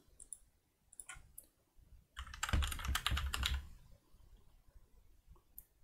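Computer keyboard typing, first as a few scattered keystrokes, then a fuller burst of rapid clicks in the middle, easing back to sparse taps near the end.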